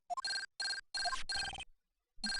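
A transceiver ringing in a video game, an electronic ringtone of repeated melodic beeping bursts separated by short pauses, clear and alone.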